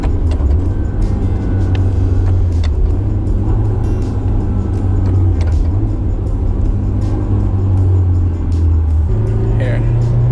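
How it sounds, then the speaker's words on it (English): Car engine revving loud and steady while a manual transmission is rev matched during downshifts, a continuous low rumble with rising and falling RPM throughout. "This is how you rev match."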